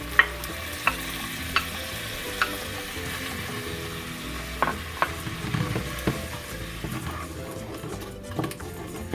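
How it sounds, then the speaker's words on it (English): Tomatoes sizzle in a pan over softened onion while a spoon stirs them. The frying hiss is low and constant, with regular clinks and scrapes of the spoon against the pan and no talking. "I'm going to add in our tomatoes now that the onion has softened"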